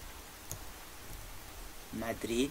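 A single soft mouse click lands close and brief over faint room hiss while clicking OK in Microsoft Access, and a voice starts talking just after it.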